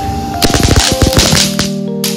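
A firecracker bursts in a rapid crackling string of sharp pops lasting about a second and a half, loud and close, over a steady tonal background hum.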